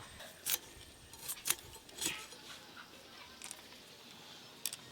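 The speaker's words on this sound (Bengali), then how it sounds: "এই নারকেলটা আবার কুচি কুচি করে কেটে নেব।" A knife finely chops fresh coconut on a board, making sparse, crisp, close cuts with irregular gaps between them over a quiet room background.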